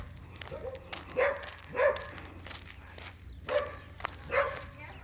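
Dogs bark on a street in the Perseverance Gardens housing scheme, about four or five sharp, fairly close barks spaced irregularly over faint footsteps and background noise.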